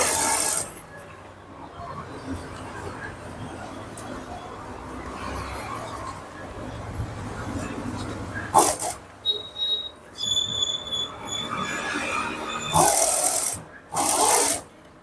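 A sewing machine edge-stitching a blouse front part runs in a steady whirring rasp, with louder bursts and sharp stops toward the end as the fabric is turned.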